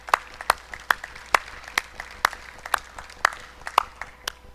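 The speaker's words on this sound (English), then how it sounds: "So, athletes, round of applause." Applause for athletes at a school sports awards ceremony: a small group clapping in a loose, uneven rhythm, moderately near, with individual claps distinct rather than a dense roar.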